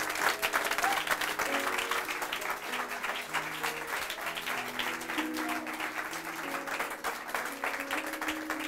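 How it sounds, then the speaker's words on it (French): A church congregation offers the Lord an ovation of lively, continuous clapping over soft sustained music, keeping an even, enthusiastic intensity for several seconds. "Donne une offrande d'acclamation au Seigneur."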